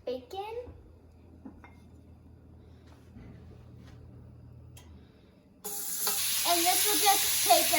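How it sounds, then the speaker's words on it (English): Bacon frying in a hot skillet on a stove: a steady hiss of sizzling grease rises suddenly partway through and continues loud to the end, preceded by a quiet stretch with a bit of talk at the start. "I've got a hot skillet here, and I'm just going to fry up this bacon."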